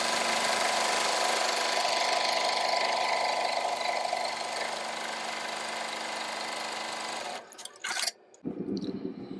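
Embroidery machine stitching in-the-hoop coasters, a steady mechanical whir and rapid needle chatter running continuously, then stopping abruptly with a few short clicks and shuffles near the end.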